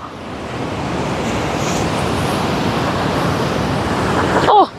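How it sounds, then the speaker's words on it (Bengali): Sea waves breaking on Gopalpur beach, a loud, continuous rushing roar of surf with wind buffeting the microphone, ending with a brief voice at the very end. "ওহ, জলের কি আওয়াজ,"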